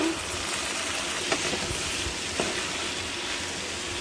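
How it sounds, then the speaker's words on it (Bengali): Prawns and ridge gourd fry in a pan, giving a steady, broad sizzle that holds close and even throughout, with two brief clicks of a utensil against the pan partway through. "চিচিঙ্গাটা ভাজা হয়ে গেছে, এখন আমি চিংড়ি মাছগুলো দিয়ে দেবো। ভেজে দেবো।"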